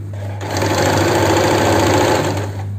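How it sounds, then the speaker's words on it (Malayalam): A sewing machine runs loud and close in a fast, even mechanical whir as it stitches the sleeve of a churidar nighty, starting up and stopping within a few seconds. "ഇനി തിരിച്ചു വെച്ചിട്ട് തിരിച്ച് അടിച്ചു വരിക അപ്പോൾ രണ്ട് സ്റ്റിച്ച് ആവുകയും ചെയ്യും"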